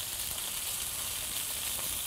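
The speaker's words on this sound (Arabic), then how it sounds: "خلاص طيب هنقلب بقى كده واسيبه بقى ايه لحد ما يغلي" Cashew rice is stirred in a pot as it fries, giving a steady, close sizzle with a faint scrape of stirring near the end and no talk.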